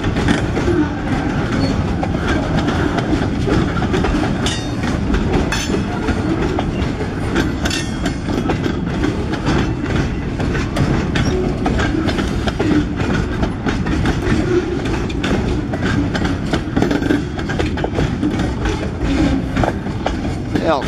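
A freight train led by a former Milwaukee Road EMD SD40-2 locomotive rolls past up close, a loud continuous rumble with steady rhythmic clickety-clack of wheels over rail joints throughout.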